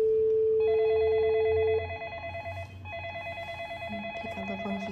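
An IP video intercom dials out, giving a steady tone followed by a repeating warbling ring-back pattern, loud and clean with no voices.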